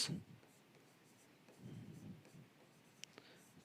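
Chalk or marker scratching on a board during a maths class on compound interest, a few faint, short scraping strokes in a quiet room, with a soft voice at the start.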